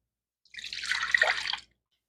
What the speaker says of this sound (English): here I'm going to add in the 3/4 cup of warm milk